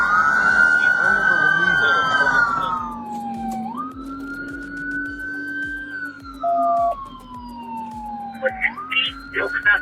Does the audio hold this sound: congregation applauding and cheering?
no